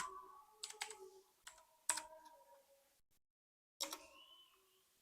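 A computer keyboard typing a short search word in Canva: a few quick clusters of crisp keystrokes close up, a brief pause, then one final clack, in a quiet room.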